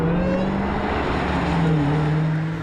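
A supercharged 2015 Dodge Challenger SRT Hellcat with a 6-speed manual gearbox accelerates through the mid-range, its loud, steady engine drone climbing in pitch and briefly dipping at a shift before pulling on, with no talk.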